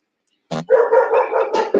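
A dog barks loudly and close by in a quick burst of several barks after a moment of silence, clear and alone without talking.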